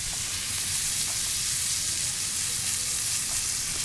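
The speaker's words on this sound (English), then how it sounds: "take some butter, get it into the pan, a couple cloves of garlic" Butter and smashed garlic cloves sizzling in a hot pan while searing steak, a steady loud hiss of frying with faint stirring clicks, no talk.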